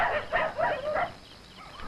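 Village dogs bark fiercely in a quick run of close, loud yelps that fade into quieter background noise, with no talk.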